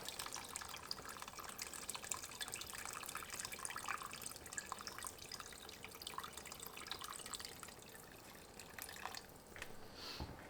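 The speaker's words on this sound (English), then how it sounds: "I'm just going to add some water, which is obviously going to thin the sauce out" A thin stream of water runs into a pot of venison neck ragout, a soft, steady trickle with light splashing, faint and continuous throughout.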